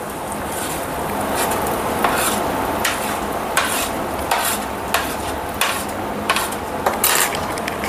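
Crushed peanuts are sautéed in a pan over medium gas, with a continuous soft sizzle and a regular run of sharp spatula scrapes and taps against the pan.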